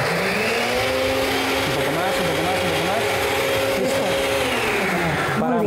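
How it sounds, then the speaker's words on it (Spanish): A kitchen blender whirs steadily while blending garlic cream soup, loud and continuous with shifting motor pitch as the speed changes, ending in a brief clatter. "no la llenen demasiado la licuadora porque se nos va a botar todo"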